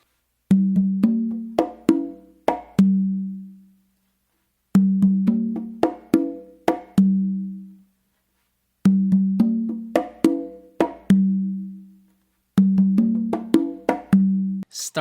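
Matanzas-style guaguanco played on three congas, with slaps and ringing open tones in a steady repeating phrase. The hand drums sound close and unaccompanied, and the pattern recurs in four bursts with short gaps between them.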